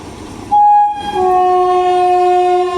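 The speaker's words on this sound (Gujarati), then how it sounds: "હવે પ્લેટફોર્મ 3 ઉપર એક ટ્રેન આવી છે." A train horn sounds at a railway station as a train arrives at platform 3, a loud sustained blast that cuts out briefly, then returns and holds steady over low rumbling.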